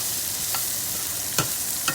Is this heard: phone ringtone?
no